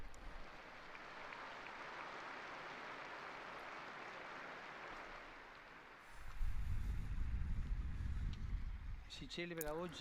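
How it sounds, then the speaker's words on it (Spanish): Large open-air crowd in a square applauds a newly beatified woman at a Regina Coeli gathering, a broad wash of clapping that fades before a low rumble of wind or crowd noise takes over and a voice begins near the end. "Un aplauso a la nueva beata."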